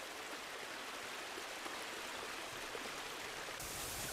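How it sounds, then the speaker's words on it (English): Glacier meltwater, channeled down from ice caps, pours over an ice precipice into the ocean as a faint, steady hiss of rushing water heard from a distance. "Meltwater, channeled down from high on these ice caps, pours over a precipice where the ice meets the ocean."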